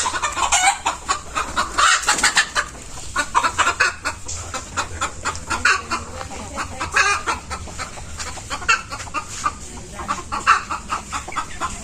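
Backyard desi hens and roosters cluck and squawk constantly close by in an overlapping flock chorus, with sharper bursts of cackling now and then and no clear speech.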